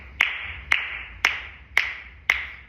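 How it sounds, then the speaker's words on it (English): Hands clap five evenly spaced sharp claps in a steady rhythm, each crisp and close with a short room ring, demonstrating a musical beat pattern with no voice over them. "So if I'm clapping"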